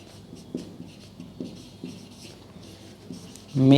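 Chalk or marker strokes on a board during a math lecture, several short scratchy taps and strokes at an irregular pace, close and fairly quiet, ending in a louder burst.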